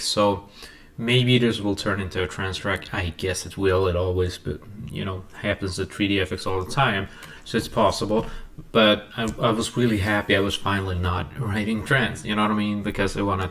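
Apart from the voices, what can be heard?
No everyday noises stand out.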